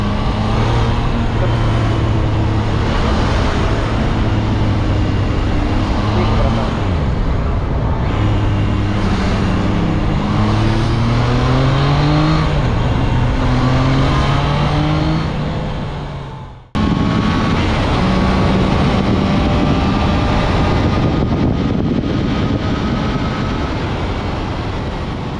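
A Triumph Trident 660 motorcycle rides along a road, its engine a loud, steady drone with rising and falling pitch as it shifts gears, cut by a brief break before it continues.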